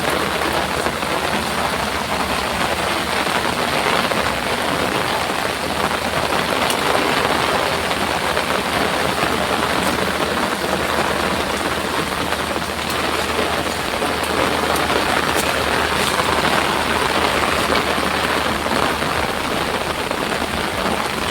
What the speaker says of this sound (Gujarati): તમને વરસાદનો અવાજ આવતો હોય તો સાંભળો